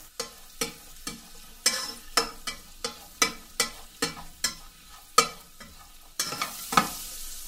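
Onions coated in spices fry in a pot for vegetable biryani while a spoon scrapes and knocks about a dozen times in a steady rhythm, then a louder burst of sizzling near the end.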